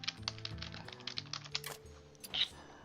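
Fingers type on a computer keyboard in a quick, uneven run of crisp clicks that slows and trails off into a few scattered taps.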